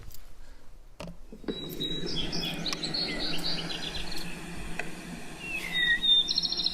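A sparrow sings in a sagebrush meadow, thin high notes and short trills scattered over a soft bed of insect buzzing, fairly near, with a sharper call late on and no voices.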